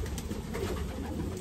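Racing pigeons coo in a breeding loft with sprinter birds and rehoming hens, a dense, continuous murmur of soft calls filling the space at moderate volume.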